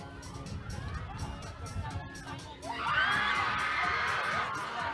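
Crowd at a school netball match, scattered voices and chatter that swell into loud excited cheering and screaming partway through, carrying on to the end.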